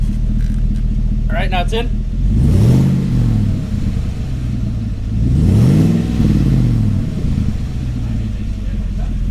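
A V8 Chevrolet Colorado fitted with a titanium exhaust revs twice, each a deep rumbling rise and fall over a steady low idle, with someone talking briefly before the first rev.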